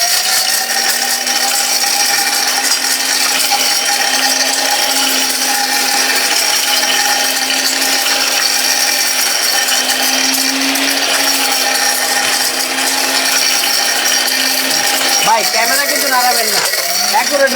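A mixer grinder runs steadily while mincing a whole chicken, bones included, giving a loud, continuous whirring drone with a constant motor pitch. Near the end it shifts into rougher, wavering grinding.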